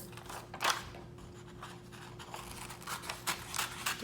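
Scissors cut through paper close up, a series of soft irregular snips and rustles as the sheet is moved, with a faint steady hum behind.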